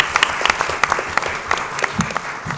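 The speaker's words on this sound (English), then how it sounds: "Can you give everyone a round of applause for being here?" A panel audience at a summit gives a short burst of scattered hand claps, individual sharp claps picking out of a modest round.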